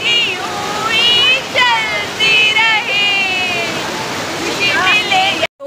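A waterfall sends up a steady broadband rush of falling water, with several people talking and calling out over it the whole time until it cuts off abruptly at the end.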